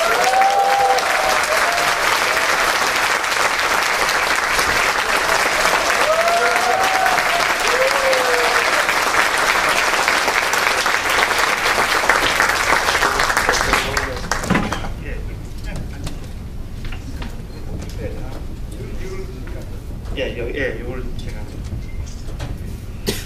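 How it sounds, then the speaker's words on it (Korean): An audience cheers and applauds to welcome party leader Roh Hoe-chan as a guest at a live talk event. Dense, loud clapping and shouts run steadily for about fourteen seconds, then drop off to a quieter room with scattered voices. "우리와 같은 함성과 박수로 맞아주시기 바랍니다"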